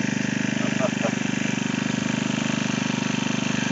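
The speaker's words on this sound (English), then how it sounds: "we got engine number 2 running" Engine running steadily at a gold mining lease, a close, even mechanical idle with a regular pulsing beat, holding constant throughout with a couple of faint knocks over it.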